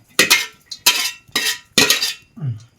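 Whole masala scraped from a pan onto a plate in a village-style country chicken cook, four loud metallic scraping clanks of a spoon against cookware in a steady rhythm, close up with no talk.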